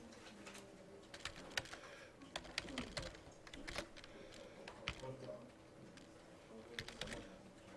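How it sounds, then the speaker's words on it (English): Soft keystrokes on a computer keyboard tap out in irregular bursts, faint and close, with scattered louder clacks and a quiet background. "So I can just type this."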